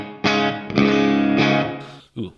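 Clean electric guitar through an ML Sound Lab Amped Oracle with reverb and compression: strummed chords ring out in three sustained strokes, then a brief pause and a short closing note.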